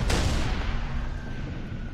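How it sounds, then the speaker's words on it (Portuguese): A Wraith bombardment in the Halo 3 ODST video game: one sharp explosion hits at the start, then a rumbling tail fades over the next two seconds. "O Rift está lançando bombas em nós!"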